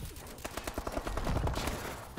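Bal-27 assault rifle firing in Call of Duty Advanced Warfare: a rapid, evenly spaced automatic burst of close, punchy shots running for about two seconds.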